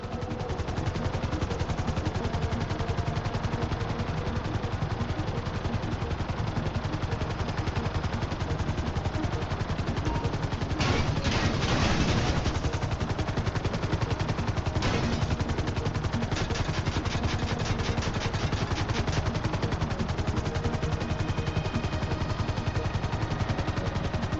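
Gunfire from the video game Grand Theft Auto V, with dense, continuous bursts of automatic weapon fire over a constant rumbling background that sounds like a helicopter. Louder clusters of shots come around the middle, and no one speaks.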